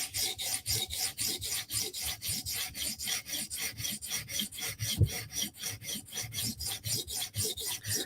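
A Spyderco knife in 15V steel stroked across a sharpening stone, a steady rhythmic rasping of repeated passes, close and fairly loud, with no talking.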